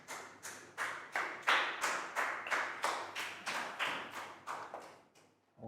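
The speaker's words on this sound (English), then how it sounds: "a big round of applause for Prel." A class of Year 4 students claps in unison at a steady rhythm, about a dozen sharp, even beats close by, ending with a brief pause and one last clap.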